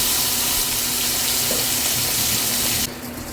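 Freshly caught fish frying in butter in a lidded pan on a stovetop, a steady loud hiss of sizzling that continues without pause, close by, easing slightly near the end.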